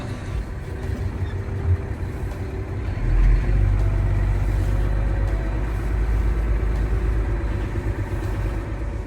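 A heavy vehicle engine runs steadily while reversing, rising in a low rumble partway through as it works, with no talking.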